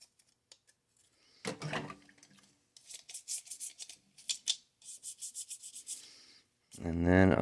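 Soap-and-water scrubbing of a small Sega Saturn console part, heard as bursts of brisk rubbing and scraping strokes, close and fairly loud, separated by short pauses.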